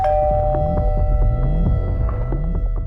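An electronic chime rings out over a steady low hum and throbbing background, with repeated tonal notes close by.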